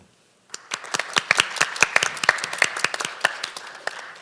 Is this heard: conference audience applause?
yes